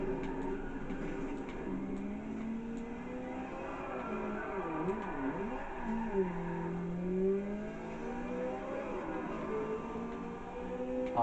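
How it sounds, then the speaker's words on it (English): A racing car engine in Forza Horizon whines and revs steadily, pitch rising and falling through gear shifts, with faint tire squeal under continuous motor drone. "Oh, I love the sound of this engine."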